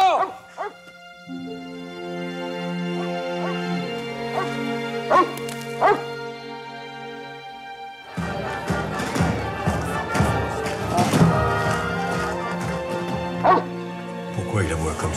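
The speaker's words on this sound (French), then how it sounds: "Pourquoi il aboie comme ça, ce chien?" A dog barks and yips repeatedly, with some whimpering, against dramatic music and people talking. The barking grows busier and louder in the second half, along with thumps.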